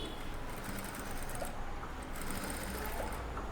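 A sewing machine runs continuously while stitching a blouse, a close, loud and steady mechanical whir with no pauses.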